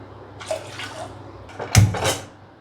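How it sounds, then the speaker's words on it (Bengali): Water being poured from a bowl into sugar to make syrup for banana malpua, heard as two short splashing pours, the second louder and closer. "বাটি মেপে আমি এতে 2 বাটি জল দেবো"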